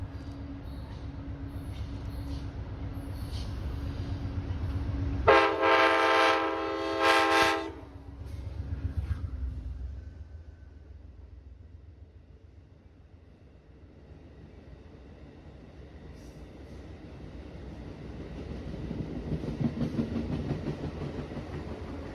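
An Amtrak passenger train rumbles along steadily approaching a station stop, sounds a long horn blast, then the rumble fades lower before building again as it rolls closer.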